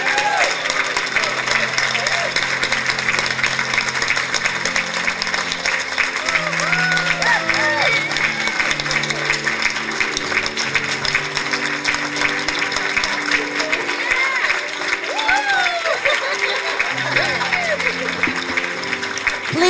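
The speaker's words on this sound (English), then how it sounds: "Another big round of applause." An audience at a graduation ceremony keeps up a long, dense wave of applause, with cheers and shouts rising through it and voices mixed in.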